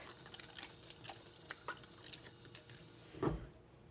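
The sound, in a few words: rinsing a vegetable under running water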